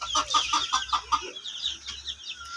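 Hens cluck in a quick run of short, repeated calls, close to the microphone, with a farmyard hush between bursts.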